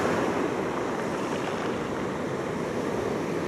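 Waves washing back over small pebbles on a Cyprus beach, a steady hissing, faintly rattling wash that stays even and soft throughout, with no voices.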